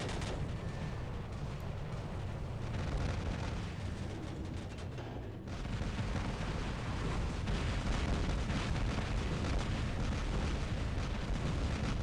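Robot weapons firing automatically in the War Robots video game, a dense, continuous barrage of booming blasts and bursts, loud and unbroken, with a brief dip midway before the volley resumes.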